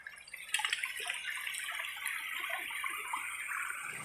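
Water sloshes and trickles at a creek during gold panning, a continuous close wet swishing with small splashes and drips, fairly quiet and with no talk.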